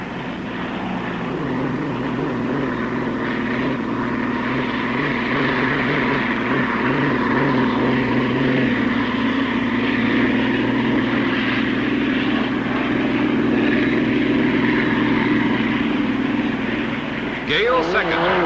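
The Miss Supertest III racing hydroplane engine at the 1960 Harmsworth Trophy race, a steady loud droning roar that holds throughout and eases slightly as it throttles back, heard under continuous commentary.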